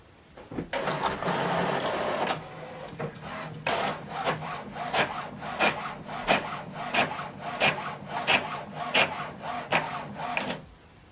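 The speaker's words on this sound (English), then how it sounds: "Now this document is printing." An HP OfficeJet Pro printer prints a double-sided document: a brief whirring feed, then a rapid series of rhythmic mechanical clicks and swishes from the print head passes, close and moderately loud.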